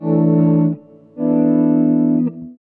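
Two sustained electric guitar chords swell up and fade using the guitar's volume knob, the volume rising and falling smoothly with a distorted, chorus-like shimmer and no attack.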